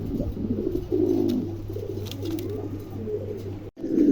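A newly adult male pigeon of a fancy down-face breed coos in soft, repeated low throaty rolls, steady and fairly close, with a brief pause near the end.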